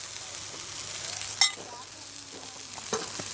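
Onions fry slowly in oil in a pan on low heat inside a Carthago motorhome, a faint, soft continuous sizzle with a sharp clink of a utensil and small stirring scrapes.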